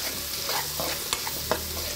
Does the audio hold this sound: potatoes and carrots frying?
yes